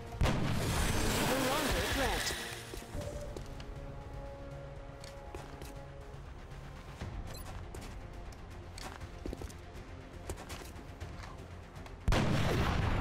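Gunfire in the XCOM Long War video game, a loud burst of shots and booms at the start followed by quieter scattered game effects, another sharp blast near the end, with no talk.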